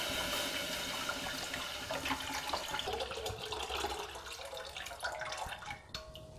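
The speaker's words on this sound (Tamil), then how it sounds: "அதில் 1 லிட்டர் தண்ணி ஊற்றிக்கணுங்க" One litre of water pours into a pan on the stove for a cashew nut kulambu, a continuous close splashing stream that tapers off near the end.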